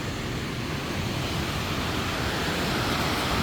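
Powerful waterfall swollen with floodwater, a loud, continuous broadband roar of rushing and crashing water heard up close, with no voices.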